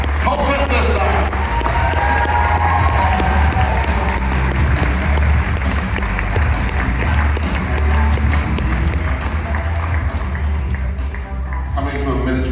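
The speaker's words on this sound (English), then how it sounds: "Can we give Marie a big round of applause and wish her all the very best?" Awards ceremony audience at the Jack Petchey Awards in Charter Hall, Leisure World, Colchester, giving sustained, loud applause and cheering throughout, a dense crowd roar with continuous clapping and no pause.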